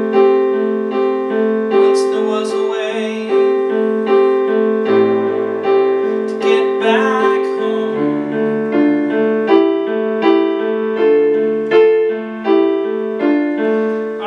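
A piano plays a steady melody with sustained chords, ringing clearly and close, with a rhythmic pattern of repeated strikes.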